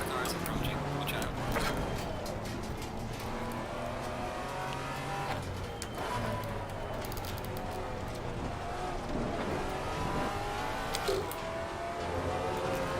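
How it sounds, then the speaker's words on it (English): Racing cars in a Zandvoort multiclass race in Assetto Corsa Competizione, heard from a Maserati GT4, drone steadily with shifting engine tones as a faster car closes in, running continuously and fairly loud beneath a voice talking. "Faster car is approaching."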